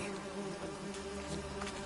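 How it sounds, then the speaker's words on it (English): Wasps and bees buzzing in The Witcher 3, a faint continuous insect drone heard alone, steady and soft. "without annoying the wasps and the bees nearby"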